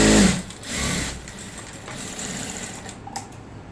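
A sewing machine double-stitches salwar pant seams in short runs, its motor whirring, fading in and out between pauses, fairly close and without speech.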